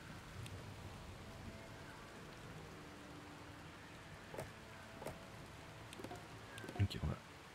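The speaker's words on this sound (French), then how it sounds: "Alors là, il pleut" Rain in the mountain kingdom-building video game Laysara: Summit Kingdom, a soft continuous patter with a few louder thumps near the end, heard faintly in the background.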